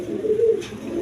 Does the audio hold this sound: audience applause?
no